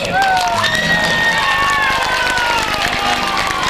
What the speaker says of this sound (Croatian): Na početku prije svega jedan lijepi aplauz za orkestar.